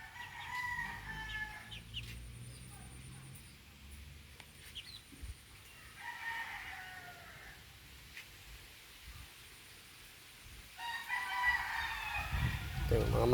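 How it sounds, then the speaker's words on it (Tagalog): Chickens cluck on and off while a rooster crows nearby in a backyard flock of about ten birds, with faint rustling and background noise throughout. "Ito yung mga manok guys."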